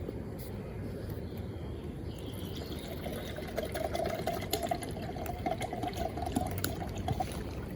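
Hot water, half a litre, pours into a flask in a steady close trickle, and the tone rises in pitch as the vessel fills.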